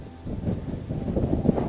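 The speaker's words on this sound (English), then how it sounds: "Pretty windy up here." Strong wind buffets a hilltop lookout above a Newfoundland fishing village, a loud, close, roaring rush across the microphone that swells and eases without pause.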